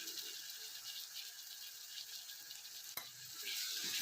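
A turmeric-spiced mixture is stirred and sautéed in a pan, a faint continuous sizzle with soft scraping and one sharp clack partway through.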